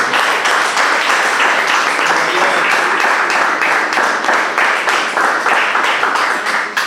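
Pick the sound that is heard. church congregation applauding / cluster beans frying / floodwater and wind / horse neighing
church congregation applauding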